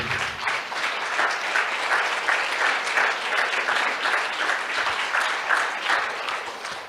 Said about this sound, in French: Vous avez une ovation debout.